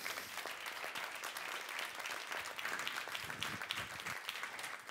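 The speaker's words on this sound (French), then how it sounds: "On l'applaudit." Applause from an audience at the Lead Export 2021 trophy ceremony, steady, full clapping from a sizable crowd that holds at an even level throughout.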